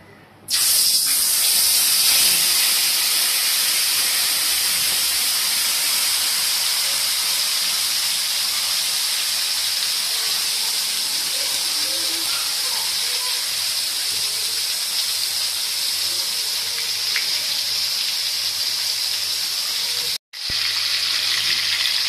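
Chicken tandoori shallow frying in oil, a loud, steady, continuous sizzling hiss close by that holds for over twenty seconds with one brief dropout near the end.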